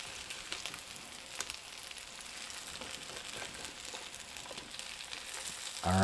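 Turnip cakes searing in a frying pan give off a soft, steady sizzle that stays low and even throughout, with no talking.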